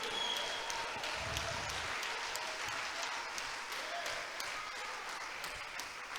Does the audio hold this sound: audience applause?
yes